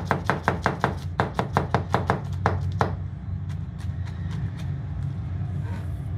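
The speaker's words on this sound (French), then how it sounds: "Nous allons d'abord commencer par émincer l'échalote." A knife mincing shallot on a cutting board, a quick steady run of crisp close chops that slows into a few scattered taps, with no talking.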